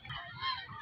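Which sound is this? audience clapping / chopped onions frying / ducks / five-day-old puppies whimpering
ducks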